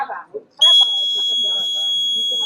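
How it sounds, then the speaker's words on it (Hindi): Buzzer of a student-built water level indicator sounding as the tank fills, a loud steady electronic tone starting partway in and holding, heard under people talking at an exhibition. "जब पानी फुल हो जाएगा तो ये बजर वर्क के बजने लगेगा"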